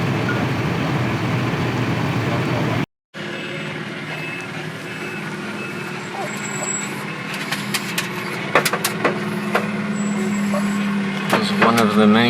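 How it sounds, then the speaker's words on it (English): Heavy fire trucks idle and rumble at a house fire in Sudbury, with reversing beeps, hissing air-brake bursts and clattering activity rising over a steady low engine drone after a brief dropout. "of the many fire trucks that just"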